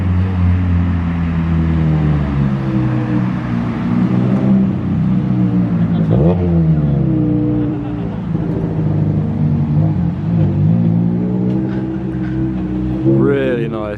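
Cars pull in at an Osaka underground car meet, with low engine rumble and several rising and falling revs and passes echoing around the space, while people talk nearby.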